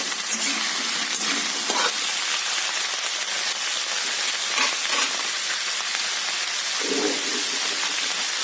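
Onions fry in a pan with a dense, steady hiss and sizzle, close and loud throughout, broken by occasional scrapes and clacks of a spatula stirring them, with no voices.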